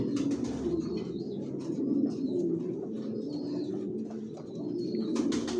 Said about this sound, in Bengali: কোয়ালিটি সম্পন্ন কবুতর পালি, কোয়ালিটি সম্পন্ন বাচ্চা রেডি করি, নিজের লফ থেকে বিক্রি করি।